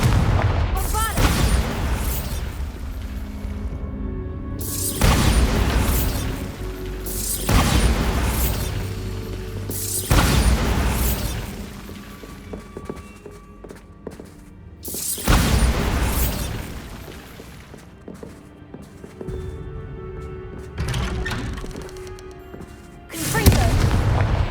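Confringo and Bombardus spell blasts in Hogwarts Legacy on PS5: a series of loud, booming explosions, about five or six big bursts spaced a few seconds apart, each with a rumbling decay and crackling debris between them.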